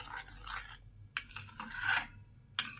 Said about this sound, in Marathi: गूळ चांगला खिसून घेतलाय बारीक आणि ढवळत राहायचं घट्टपणा येईपर्यंत